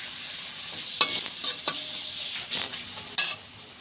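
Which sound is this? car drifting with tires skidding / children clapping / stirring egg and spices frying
stirring egg and spices frying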